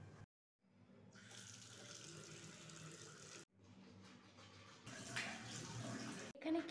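Bathroom tap running steady water for a bath, a continuous gushing flow that briefly cuts off and restarts, no talking over it.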